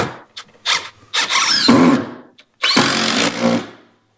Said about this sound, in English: So I'm gonna shoot some longer screws in here, see if I can pull it over real quick.